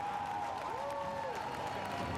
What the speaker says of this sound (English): Sam Bird emerges to the roar of the crowd